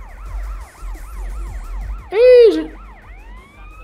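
A police siren in the GTA MTA roleplay video game wails in a fast repeating up-and-down cycle, cut by a brief louder burst of a different tone, with a short voiced exclamation in between.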